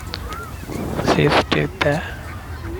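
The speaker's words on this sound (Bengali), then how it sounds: "এখানে হাঁসগুলা দেখেন, এখানে অনেক হাঁস।" Ducks in a large park, Al Aziziya Park, being fed by visitors, a few honking quacks close by, mixed with a voice talking over them.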